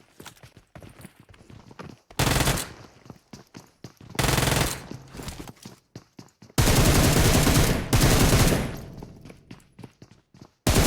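Automatic gunfire in the PUBG Mobile battle royale game, with loud sustained bursts separated by quieter stretches of footsteps and movement, and one long heavy volley near the end.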